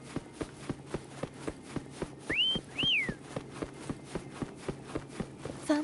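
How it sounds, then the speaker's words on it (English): Two rising whistled notes call a mount in the video game Wuthering Waves, standing out clearly over a steady rhythm of footsteps. "Try whistling."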